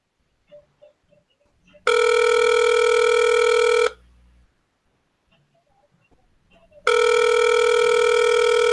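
Telephone ringing on a call placed to reach a voicemail line: two long, loud electronic rings, each about two seconds, separated by a silent gap, with faint line noise between them.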